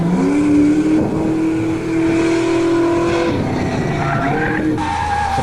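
A Porsche sports car skids loudly on a racetrack, a sustained tire squeal over its engine note, steady and fairly close, with no talking.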